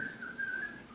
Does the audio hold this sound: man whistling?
yes